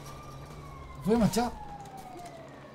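A police car siren wails in the GTA 5 video game, a brief rising-and-falling whoop close by for under a second, with a voice speaking over it and steady engine hum beneath.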